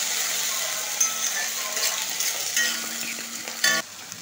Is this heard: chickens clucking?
no